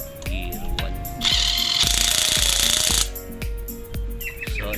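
Cordless impact wrench on gear 1 loosening a bolt, a loud close burst of rapid hammering for about two seconds amid repeated clunks and handling knocks.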